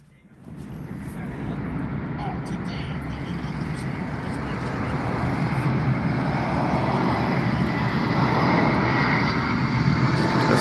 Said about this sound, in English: Oh, we got a plane coming in now.